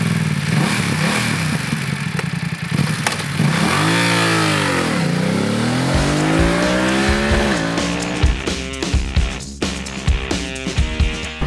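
BMW F900XR and Yamaha Tracer 900GT crossover motorcycles ridden hard on a twisty road, engines revving up and down through shifts with rising and falling pitch sweeps, loud and close, with no talk.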